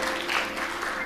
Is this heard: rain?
no